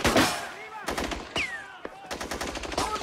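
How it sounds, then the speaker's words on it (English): Gunfire from an ongoing shooting: bursts of rapid machine-gun fire and scattered shots close by, with short gaps between volleys and a voice heard between them. "Alina, you've seen the shooting. It is still going on"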